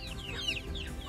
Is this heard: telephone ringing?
no